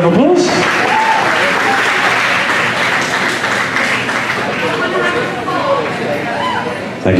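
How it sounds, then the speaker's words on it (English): An audience claps for couples being brought out at a Latin dance competition, loud continuous applause with some cheering, while an announcer's voice rings out over the start. "Give them a round of applause."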